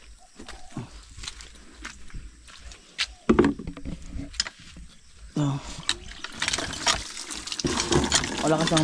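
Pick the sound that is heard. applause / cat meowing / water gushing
water gushing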